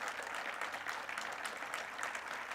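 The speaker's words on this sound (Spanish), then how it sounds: "Pero denle ese aplauso fuerte a nuestro Dios" A church congregation applauding to praise God during a Spanish-language sermon, a dense, even, fairly distant wash of clapping that carries steadily with no speech over it.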